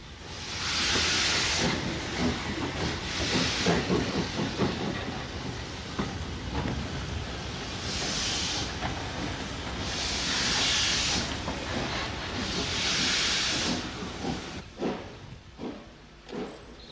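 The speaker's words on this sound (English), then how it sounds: "The steep gradient in this siding and the greasy rails combine to produce some pyrotechnics as 2 jeeps attempt and eventually succeed in moving some empty coaching stock out of this siding" Two small tank locomotives slip on greasy rails up a steep siding gradient while moving empty coaches, with loud bursts of steam hissing and chuffing in surges, fading and returning over a steady rumble.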